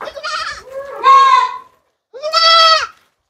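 A Patira goat and her kids bleat in three separate calls, loud and close, with a short quiet gap before the last one. No talk is heard.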